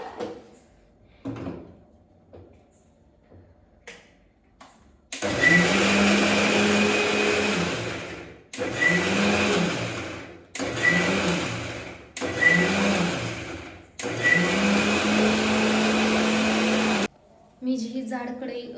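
A kitchen mixer grinder runs in five loud bursts of several seconds each, separated by short pauses, with soft voice and handling noises before the first burst.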